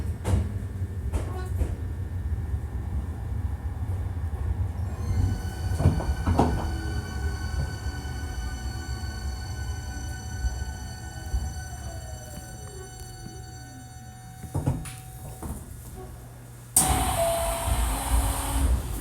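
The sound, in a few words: Hankyu 1300 series train running sound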